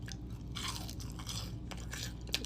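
Crunchy fast food is eaten close up during a mukbang, with several sharp, quick crunches and chewing bites over a soft, steady background hiss. Nobody speaks.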